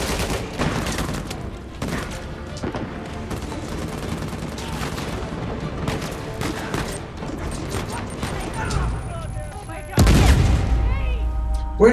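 Gunfire in the video game Uncharted 4: dense, continuous bursts of shots and booms at moderate loudness, ending in a louder blast near the end.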